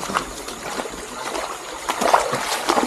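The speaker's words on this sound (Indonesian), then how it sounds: "Air terjun." Water on the Obokocio river near Siabu village tumbles and splashes in a small waterfall, an uneven rushing trickle with irregular bursts of splatter close by.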